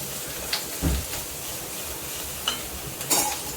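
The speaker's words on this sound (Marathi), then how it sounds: "आणि मग आपण हे खोबरं आलं आणि लसूण आहे तो आपण थोडंसं परतून घेऊ" Onion, grated coconut, ginger and garlic sauté in a pan for a Konkani bombil chutney, with a steady soft sizzle under a few brief scrapes and clinks of a spoon against the pan.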